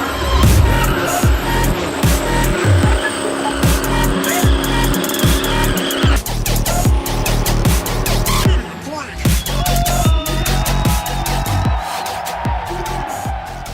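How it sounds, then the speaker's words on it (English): A car doing a burnout at a Cleetus and Cars event in Indianapolis roars loudly and continuously, its engine revving hard while the tires squeal and skid throughout, with crowd noise in the mix. "Ranch Tang won the burnout at Cletus and Cars Indianapolis"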